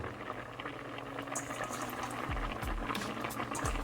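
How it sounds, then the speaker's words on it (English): Bamboo shoot soup in coconut milk simmers in a covered pot, a faint, continuous bubbling with soft liquid pops and gurgles close by and no talking. "we are going to simmer this for another 5 minutes"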